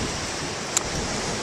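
Big ocean waves roll in as a steady, loud wash of surf with wind noise across the microphone, and a single brief high tone cuts through midway.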